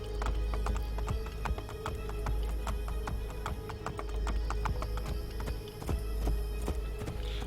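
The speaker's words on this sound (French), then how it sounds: "on peut rentrer dans la ville avec les chevaux maintenant" Horses ride into the city in the game Assassin's Creed Brotherhood, with a steady clattering, mechanical-sounding rhythm of hoof-like clicks over a constant low rumble, loud and continuous with no talking.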